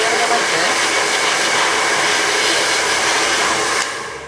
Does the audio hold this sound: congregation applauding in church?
no